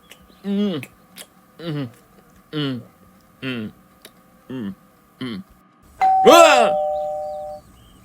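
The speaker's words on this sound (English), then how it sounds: "That must be the doorbell." A doorbell rings in a short repeated series of bright two-tone chimes, evenly spaced, followed by one louder, longer ring with a sustained tone, set against a quiet room.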